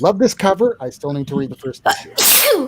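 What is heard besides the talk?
sneeze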